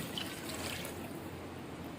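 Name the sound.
water poured into mutton for karahi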